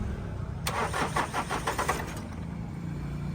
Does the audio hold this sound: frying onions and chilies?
no